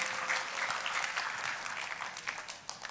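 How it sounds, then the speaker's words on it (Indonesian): Steady applause from a church congregation, dense clapping throughout at an even volume, tapering slightly toward the end. "Kita kasih tepuk tangannya pula yang paling meriah buat Tuhan dia."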